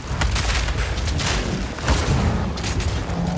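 Repeated booming explosions and crackling bursts in the video game Path of Exile 2, loud and dense, rolling one after another for a few seconds.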